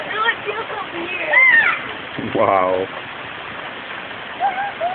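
Rain falls steadily outdoors as children play in it, a continuous soft hiss of drops running through the whole stretch, with voices of people talking and exclaiming over it.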